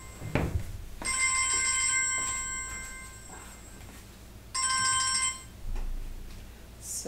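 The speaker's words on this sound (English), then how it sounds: "I forgot to put my phone off." A mobile phone ringtone plays in two bright, tonal bursts separated by a pause, close and clear over a quiet room with light background thumps.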